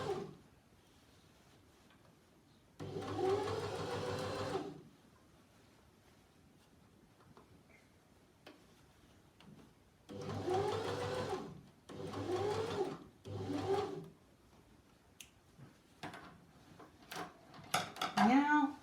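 A sewing machine stitches a maxi dress in several bursts, whirring fast for a few seconds at a time with quiet pauses between, close and clear, with soft handling noises in the gaps.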